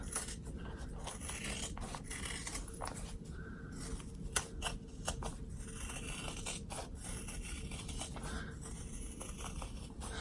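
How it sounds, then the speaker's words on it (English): Scissors snip and scrape through excess zipper on a bag in a steady series of crisp, close cuts, with a faint rustle between them. "Now you're going to cut off the excess zipper and everything"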